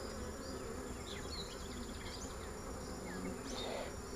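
Honeybees hum steadily during a hive inspection, a dense close swarm drone with individual bees zipping past, continuous and fairly soft with no talk.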